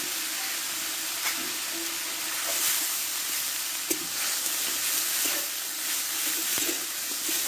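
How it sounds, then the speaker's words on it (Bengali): Ground spice paste and turmeric fry in a pan for a katla fish curry, a continuous close hissing sizzle with occasional soft scrapes of stirring and no voices. "দিয়ে একসঙ্গে কষে নেবো মশলাটাকে আমি"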